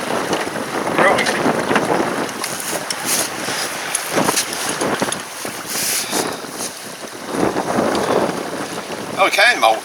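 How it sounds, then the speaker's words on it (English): Steady breeze buffets the microphone aboard a sailboat sailed single-handed, a continuous loud wind rush with gusty swells, water movement and occasional rattles. "Nice steady breeze now."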